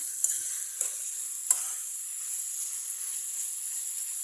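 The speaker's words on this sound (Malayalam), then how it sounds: "ഇനി ഇതിലേക്ക് നമ്മൾ കട്ട് ചെയ്ത് വെച്ചിരിക്കുന്ന നമ്മുടെ കത്തിരിക്ക വഴുതനങ്ങ ചേർത്ത് കൊടുക്കുക ഇത് നന്നായിട്ടൊന്ന് വഴറ്റിയെടുക്കാം" Cut eggplant being sautéed in a pan for a curry, a steady close sizzle throughout with a few brief stirring clicks near the start.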